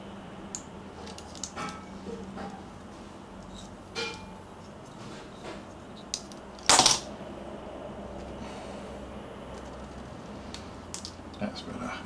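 Wire trimmers snip a wire on a Mendel Parts V9 3D printer hot end, a single sharp close click standing out from quiet handling noises, with someone talking softly around it.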